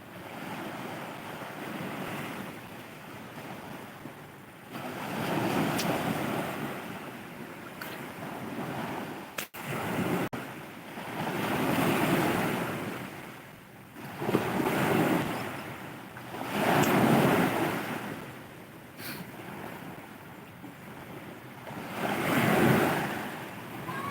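Waves on a beach surge and break in slow, repeating swells, with strong wind buffeting the microphone throughout and no talking.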